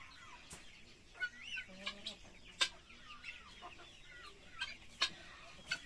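Native Joloano free-range chickens on a farm in Basilan cluck in short, soft, scattered calls with a few sharper peeps, fairly quiet and close, with light background ambience and no clear talk.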